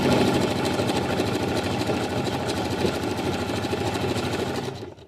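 Sewing machine running steadily while stitching along a fabric edge with a straight stitch meant to imitate overlock, producing a close, continuous mechanical whirr with rapid needle ticking throughout before it slows and stops at the end.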